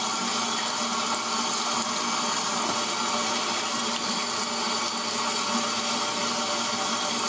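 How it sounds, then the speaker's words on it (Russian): Steady rush of warm tap water splashing into a sink over hands being washed, continuous and close, with no voices. "Включаем воду тепленькую, либо холодную чуть-чуть, так как лето."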